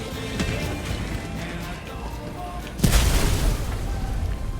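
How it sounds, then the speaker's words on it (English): Grenades go off in the Helldivers game: a muffled rumble of distant blasts gives way to one sharp, loud explosion near the end, followed by a lingering crackling tail. "Dang, that thing throws grenades everywhere."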